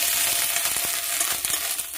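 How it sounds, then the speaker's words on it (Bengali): Chopped onion, garlic and ginger fry in a pan, giving a steady, fairly loud sizzling hiss with faint crackles and stirring scrapes. "এবার আদাটা দিয়ে দেবো।"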